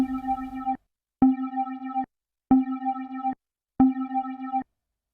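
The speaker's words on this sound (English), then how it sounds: "I'm going to add a low pass filter now and leave the settings as they are" Four sustained synth lead notes through a low-pass filter with a muffled tone, each held about a second with short gaps between, rolled-off top end.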